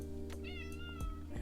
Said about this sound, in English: And my cat's here.